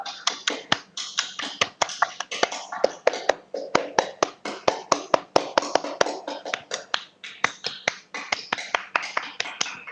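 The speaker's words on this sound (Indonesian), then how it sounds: "Kalau itu babanya sebenarnya 3 kali tepuk pramuka" Group of people doing the Indonesian scout clap (tepuk pramuka), a fast rhythmic pattern of sharp claps and taps repeated steadily throughout, close and fairly loud with no talking.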